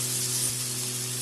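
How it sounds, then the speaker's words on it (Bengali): Potatoes with black cumin fry in a pan for a raw tomato chorchori, giving a short, steady, close hiss of oil with a low electrical hum underneath. "এখন আলুটা ভাজা হবে,"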